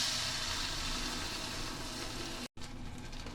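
Onions and garam masala fry in a pan for a beef tehari, giving a steady, loud broadband sizzle that runs continuously, with a brief cut near the end before the sizzle resumes.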